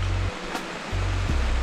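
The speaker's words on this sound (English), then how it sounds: "I see a little bit of waterfall" A small waterfall in a Costa Rican rainforest near La Fortuna's Arenal hanging bridges gives a steady, loud rush of falling water, mixed with heavy low wind rumble on the microphone that cuts in and out.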